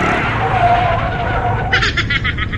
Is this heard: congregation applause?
no